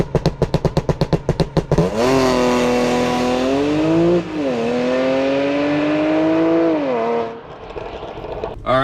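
Supercharged Audi launching hard at 2,500 RPM: a few rapid idle pulses, then a loud, sustained engine roar climbing through the gears with a short dip at a shift before cutting off.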